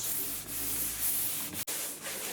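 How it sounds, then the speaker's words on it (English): Steady abrasive rubbing of a sanding longboard stroking back and forth across a kayak hull bottom, repairing rock scratches, close up, with a brief pause near the end. "A longboard is the perfect tool for this kind of sanding."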